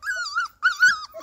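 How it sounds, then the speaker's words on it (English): A three-week-old Weimaraner puppy cries in close, high-pitched whimpering whines, two drawn-out wavering bursts separated by a short pause. "Is the puppy crying?"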